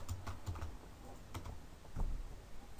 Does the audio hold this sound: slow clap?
no